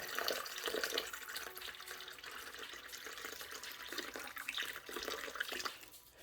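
Lukewarm room-temperature water pours steadily into a pond tub, a continuous close splashing rush with slight surges and no voices.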